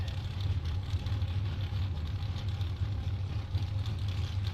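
A Corvette drag car at a Friday bracket race, its engine running in a steady low rumble with a strong bass throb and constant broadband noise, near and continuous throughout.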